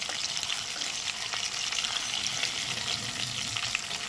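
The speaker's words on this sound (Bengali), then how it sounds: "হালকা করে ভেজে নিয়ে নামাতে হবে খুব বেশি কড়া করার দরকার নেই" Pomfret fish frying in oil: a dense, steady, close sizzle and crackle with occasional sharper pops, continuous throughout and with no voices.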